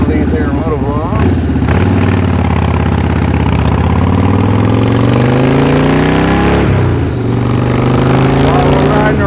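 A Harley-Davidson Road King cruiser rides through town, its motorcycle engine rumbling steadily and loud the whole way, pitch rising and falling as it shifts and accelerates, with someone talking over it.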